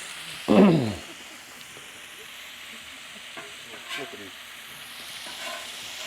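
Bacon frying on a Blackstone griddle, a steady low sizzle throughout with a brief louder scrape or flip near the start and faint clinks later.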